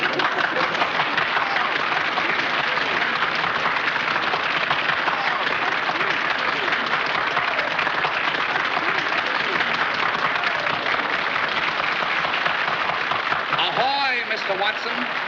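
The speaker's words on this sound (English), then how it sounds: "Mr. Watson, the audience is now applauding you." Dense, sustained applause from a large audience fills the whole stretch at a steady level, with a voice briefly audible near the end, in a 1939 film soundtrack.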